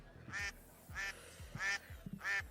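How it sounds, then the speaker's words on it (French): A duck quacks four times in an even rhythm, each call a short nasal honk spaced about half a second apart, fairly close and clear against quiet low background noise. "Un canard."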